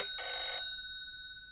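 Telephone in a horror video game rings once, a bright electronic trill with a clear ringing tone that fades out after about half a second, no voices.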